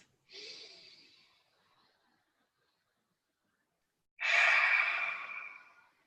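A deep breath taken during a guided breathing exercise: a soft inhale fades out, then after a pause a louder, longer exhale rushes out alone, close and clear.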